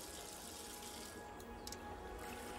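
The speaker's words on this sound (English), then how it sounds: "I'll be able to turn the water on if I" Water running from a faucet in a video game, a faint, steady hiss of flowing water with a few brief brighter splashes, alone without talk.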